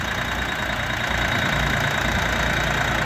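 A Xingtai XT-244 four-wheel-drive mini tractor engine idles steadily nearby, a continuous low rumble with a droning mid-range hum and no breaks or revving.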